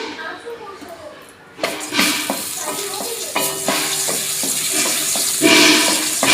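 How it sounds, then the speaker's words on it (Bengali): Four cardamom pods drop into a little hot oil and start frying with a sudden sizzle that keeps crackling steadily, while someone talks over it. "সামান্য একটু তেল দিলাম একটা একটুখানি সামান্য মশলা করে নেব চারটে এলাচ দানা দিয়ে দিয়েছি"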